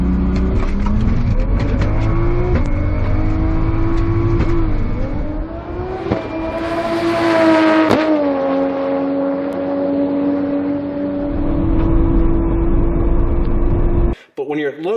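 Tuned car engine with Haltech flat shift revving hard, close and loud, the pitch climbing and holding with sharp cuts and bangs between, ending in a brief drop. No voices are heard.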